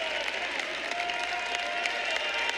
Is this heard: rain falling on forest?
no